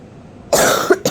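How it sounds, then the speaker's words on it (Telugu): A person coughs while mixing salt and chili powder into a dish: a quiet pause, then a loud harsh cough burst and a shorter second cough close to the microphone. "సో మధ్యలో దగ్గు వచ్చేస్తుంది నాకు,"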